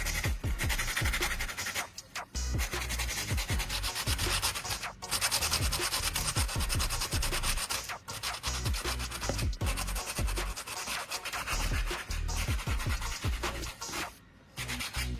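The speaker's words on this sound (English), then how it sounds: "Use some sandpaper to gently rub off any leftover glue." Sandpaper rubs old glue off a shoe in firm, rapid back-and-forth strokes, close and loud. The scratchy scraping runs almost without a break for fifteen seconds, with a few brief pauses between strokes.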